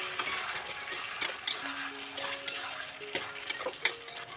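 Chicken and potatoes cook in a pan over a medium flame, with a soft continuous sizzle and scattered light scraping clicks from stirring.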